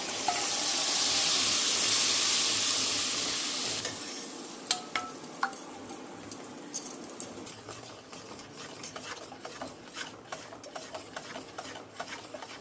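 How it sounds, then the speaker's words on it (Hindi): A spoon stirs a yogurt mixture with cinnamon and Kashmiri red chili in a pan. A loud hissing sizzle comes first, then close, irregular scraping and tapping strokes as the mixture is stirred. "बहुत ही अच्छी तरह से इसको मिक्स करते रहना है, जैसे कढ़ी हम बनाते हैं, जब तक बॉईल ना आ जाए।"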